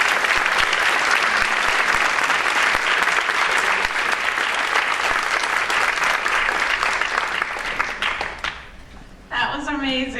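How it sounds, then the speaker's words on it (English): An audience at a high school Math Honor Society induction ceremony breaks into loud, sustained applause. The clapping is thick and even for about eight seconds, then thins out and stops before a voice starts speaking. "Can we have another round of applause?"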